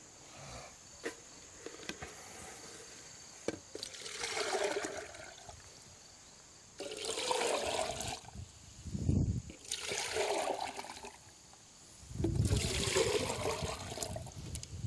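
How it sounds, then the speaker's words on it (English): Water poured from a container onto a tomato plant being replanted in a spring garden, heard as several separate bursts of splashing and trickling into soil, each a few seconds long, with quiet pauses between them. "And we'll water the plant thoroughly with it."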